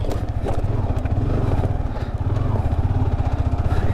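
A motorcycle rides off-road on rough ground: a loud, close engine with a fast, throbbing chug and rattling clatter, holding steady throughout.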